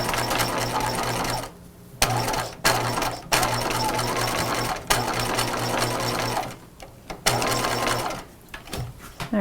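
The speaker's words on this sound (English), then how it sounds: "you're gonna just start zigzagging right along the bottom fold of the belt loop, and you can back stitch." A sewing machine runs a zigzag stitch along the bottom fold of a fabric belt loop on pajamas, whirring fast and loud in several bursts separated by short pauses.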